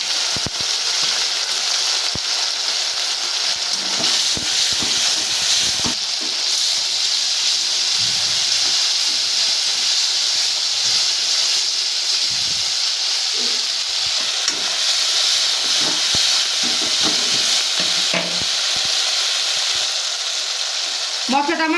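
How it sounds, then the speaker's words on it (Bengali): Nigella seeds and spices hit hot oil as a tempering for a Bengali fish curry, giving a steady, fairly loud broadband sizzle and hiss that runs through the whole stretch, with a few faint knocks and stirring movements underneath. "তেলের মধ্যে দিয়ে দিচ্ছি কালো জিরে ফোড়ন দিয়ে দিচ্ছি"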